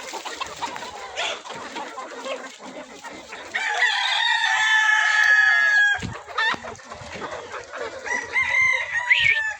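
Roosters crow repeatedly with loud, drawn-out calls, mixed with scattered clucking and other farmyard bird noises, close by and with no talk.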